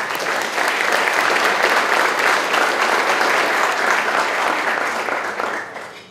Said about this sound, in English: How about another round of applause for our Vice President, Mr. Marcus Hollister